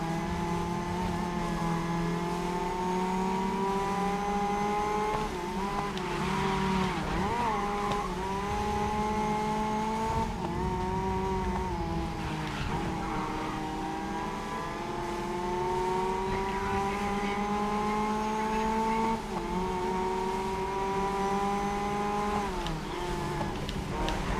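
Racing cars in the video game GRID Legends roar continuously, engines climbing and dropping in pitch through gear changes as the race goes on, loud and unbroken.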